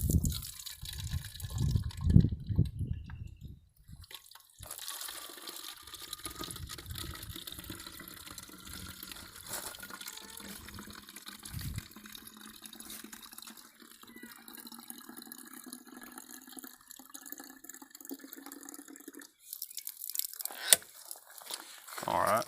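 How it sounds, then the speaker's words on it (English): Water runs into a spray container holding dishwashing soap for an organic garden pest spray, a gushing, bubbling fill with trickles and drips, louder at the start and the end. "I'm gonna go until I see that water line hit up around 23,"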